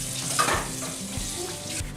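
A kitchen tap runs steadily while something is rinsed off under it, a continuous close splashing rush with slight shifts as the item moves through the stream.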